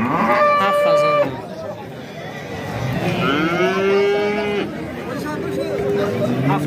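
Cattle at a livestock market moo repeatedly in long, drawn-out calls over a busy background of overlapping crowd chatter.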